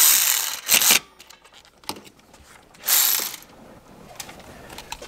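A ratchet loosening a 10 mm bolt on a Brembo brake line bracket on a V6 Charger, two quick bursts of close metallic clicking separated by softer clinks and handling noise.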